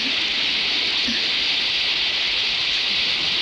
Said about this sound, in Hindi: और मूसलाधार बारिश होने लगी।